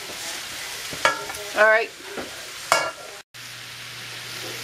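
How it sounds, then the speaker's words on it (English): Cabbage and spicy hamburger stir fry sizzles softly in a pan with occasional stirring scrapes, close by, while a person speaks briefly over it. "So I'm still frying."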